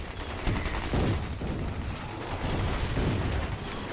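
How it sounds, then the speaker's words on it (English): Artillery explosions boom in rapid, overlapping bursts during a Paraworld multiplayer battle, a dense barrage of close, loud blasts with no voices. "Let's just sit here and watch some explosions for a minute, shall we?"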